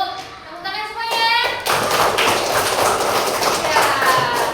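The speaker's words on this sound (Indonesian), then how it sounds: "tepuk tangan semuanya" Children in a classroom clap their hands together, a dense burst of close applause that starts around a second in and continues steadily to the end, with faint voices behind it.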